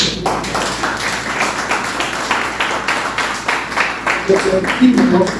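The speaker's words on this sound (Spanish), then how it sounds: "hoy te damos un fuerte aplauso" A church congregation applauds together at a Sunday service, producing dense, steady clapping that stays loud from start to finish, with a voice faintly audible near the end.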